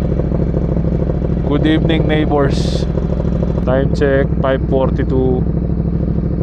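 A Ducati Diavel 1260 motorcycle warms up with a steady, low idling rumble that runs unbroken throughout, while someone talks over it nearby.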